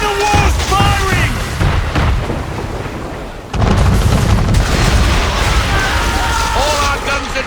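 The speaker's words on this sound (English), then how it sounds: "Man of war's firing!" Man-of-war cannon fire in the naval combat of Assassin's Creed 3: loud, continuous booming barrage with a sudden renewed blast midway, over dense battle noise and shouted voices.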